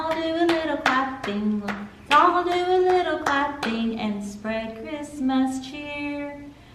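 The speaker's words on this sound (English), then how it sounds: "Let's all do a little clapping." Hands clap in a steady beat along to a sung Christmas song, each sharp clap landing on the rhythm under a clear melodic voice.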